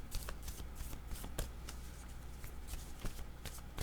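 Tarot cards shuffled by hand for a reading, a series of close, crisp riffling bursts and soft snaps repeating in quick irregular rhythm.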